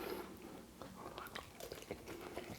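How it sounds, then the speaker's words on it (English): Crispy Chinese-style garlic chicken gets bitten and chewed close up, with a series of irregular crunchy bites and soft mouth sounds, fairly quiet, with faint breathy voice noises in between. "Can you hear the crunching?"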